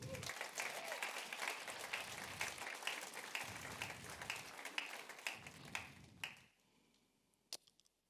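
A church congregation applauding, with dense, steady clapping that continues for several seconds before thinning out into a few scattered final claps, while voices murmur beneath it.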